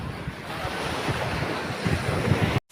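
Ocean surf rushes and washes in steadily on a Zambales beach with strong wind buffeting the microphone, a continuous loud roar with no voices.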